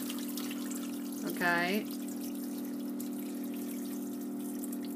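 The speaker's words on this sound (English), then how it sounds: "So I'm adding in my water" Water pours steadily into a soup pot over a low, even hum, with a brief spoken word near the start.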